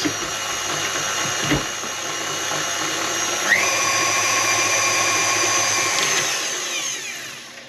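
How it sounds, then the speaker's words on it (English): A stand mixer kneads dough for home-made stottie cake, a steady mechanical whirr with ratcheting gear clatter running for several seconds before winding down at the end, loud and close with no talk. "just a quick mix on. Oh, turn it on, Amanda."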